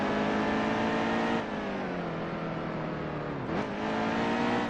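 A truck engine in the NASCAR Heat 2 racing game revs loudly and steadily at high pitch, easing briefly as the throttle drops and then climbing again, with no talk over it.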